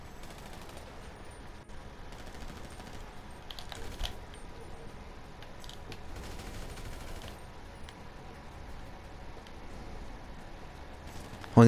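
Rapid bursts of gunfire from an online match of the video game GTA 5 Online rattle on steadily, with dense clicking shots and no voices over them.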